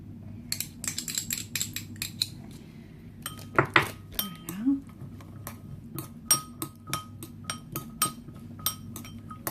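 Utensil stirring vegan kebab meat together with carrots and vegan mayonnaise, giving a run of sharp clinks and scrapes against the bowl, repeated close and fairly loud over a steady low background hum.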